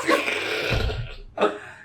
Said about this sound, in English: We interrupt this review for a sneeze of epic proportions